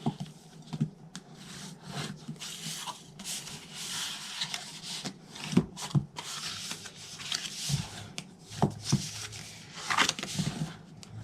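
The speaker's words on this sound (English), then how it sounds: "I'm just going to fold and burnish" Scored designer series paper being folded and burnished for a scalloped box, with soft, close rubbing and scraping strokes and crisp paper handling in irregular bursts.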